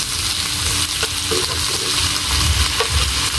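Shrimp fry and get stirred in hot oil for an adobo dish, a steady close sizzle with occasional scrape and clatter of the spatula against the pan, no talking.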